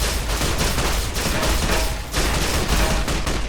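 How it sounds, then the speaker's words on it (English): Rapid bursts of gunfire in the video game Fallout New Vegas, loud and close, crackling shots overlapping in a dense volley with brief gaps. "I'm telling you, I'm shooting these guys."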